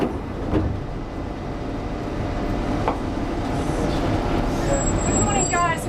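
A London Underground train rumbles at Oxford Circus station, a steady low roar with faint squeals and rising metallic hiss near the end, alone without voices.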